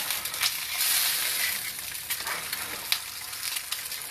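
A fried egg cooking in a very hot pan, worked with a metal spatula, makes a loud, close, continuous sizzle with crackling bursts and a few scraping touches, with no voices.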